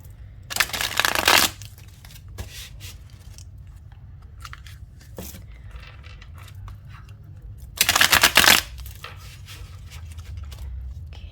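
Playing cards are riffle-shuffled twice, two crisp fluttering bursts several seconds apart, with soft handling clicks in between.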